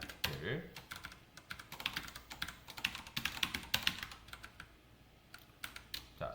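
Fingers type code on a computer keyboard, a quick, irregular patter of soft key clicks, close and fairly quiet, with faint voice traces in the background.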